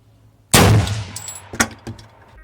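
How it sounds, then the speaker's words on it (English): A single loud, close AR rifle shot booms and rings out, and a few fainter metallic clinks and knocks follow as it fades. "Let's fire our first shot group."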